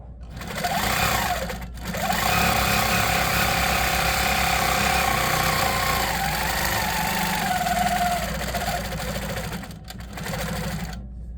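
A Handi Quilter Pro-Stitcher quilting machine starts stitching again, its steady mechanical whir and rhythmic needle chatter holding loud and close, with a brief pause before it picks up once more near the end.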